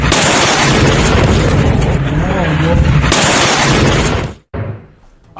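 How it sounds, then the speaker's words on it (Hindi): A loud, sustained roar of blast noise from an explosion near a moving vehicle fills the clip, then cuts off abruptly, followed by a short burst of crackling sound. "गाड़ी जा रही थी, वहीं धमाका हुआ।"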